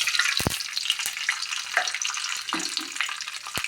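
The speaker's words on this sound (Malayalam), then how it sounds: "അതിൽ ഒന്നര ടേബിൾ സ്പൂൺ വെളിച്ചെണ്ണ വീട്ടിയിട്ട് അതിൽ കുറച്ച് കടുകിടാം" Mustard seeds spluttering in hot coconut oil in a clay pot, a dense continuous crackle of fast pops and sizzling with a few louder snaps, close and loud.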